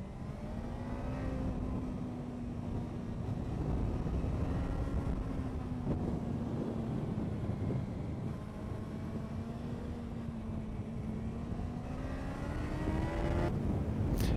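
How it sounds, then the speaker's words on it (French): A car accelerates out of a bend on a winding mountain road, its engine drone rising steadily in pitch with a continuous, fairly close hum throughout. "quand je vois la sortie j'accélère."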